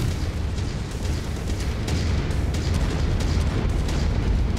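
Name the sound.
orbital cannon blasts in video game Mechwarrior 5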